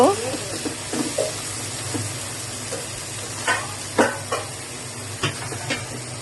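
Soy sauce hits a large pan of restaurant-style chicken fried rice with long beans and carrots, sending up a steady sizzle with sharp hissing bursts as the liquid lands.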